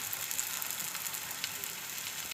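Coconut poli frying in ghee on a pan, a steady soft crackling sizzle heard close up and at low level for a couple of seconds, with no voices.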